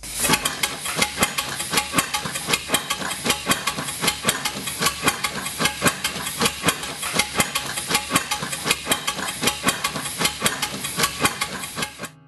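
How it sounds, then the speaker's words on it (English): A Stanley Steamer steam engine turns over on about 100 pounds of compressed air, giving a fast, steady run of loud rhythmic hissing chuffs at close range that cuts off at the end. "I'm going to open this valve and hopefully you'll get to see this engine turn."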